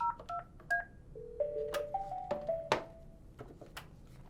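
Dialing tones from a VoxSun IP phone: a quick run of short keypad beeps at varied pitches, then a longer held tone with a few clicks, quiet and close without talk.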